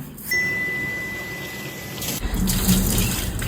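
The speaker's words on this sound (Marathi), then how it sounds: "आता आपण धुवून घेऊ. तांदूळ, डाळ एकत्र करूया." Rice and mung dal being rinsed together in water, heard as running tap water and sloshing in a vessel, quieter at first and then a louder, fuller splash of water for the last second or so.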